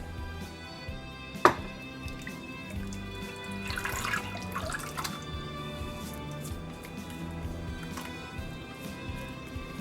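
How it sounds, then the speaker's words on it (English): Leche asada filling, a Chilean baked milk custard, is poured from above onto caramel in a baking dish, making a steady liquid pour with a soft splash and a sharp clink near the start, close and moderately quiet. "Just gonna add the filling right on top."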